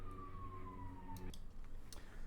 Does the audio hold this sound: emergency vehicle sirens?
yes